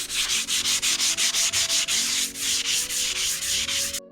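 Bassani exhaust pipe being hand-sanded with 400 grit sandpaper: quick, steady back-and-forth rasping strokes, close and loud, about a dozen rhythmic passes followed by longer smoother rubs, stopping abruptly at the end.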